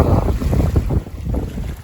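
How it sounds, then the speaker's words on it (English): Strong wind buffets the microphone while waves slap and churn on the Yukon River at a boat landing, a loud, continuous rough roar with no talking. "the wind and the waves sure picked up."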